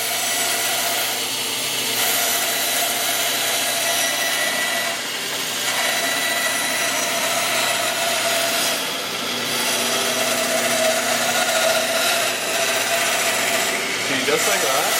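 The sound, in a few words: bandsaw cutting a circle in wood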